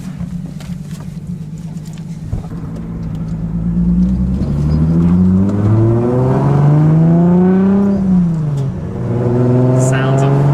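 An RB25 big-turbo engine in a Nissan 240SX, heard from inside the car on a ride along, winds up loud and continuous with its pitch climbing under load, briefly dropping near the end before rising again.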